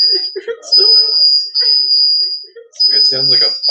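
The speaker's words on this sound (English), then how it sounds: "It sounds like a fire alarm" A steady high-pitched electronic tone like a fire alarm holds for long stretches, broken once, while someone talks and exclaims over it close by.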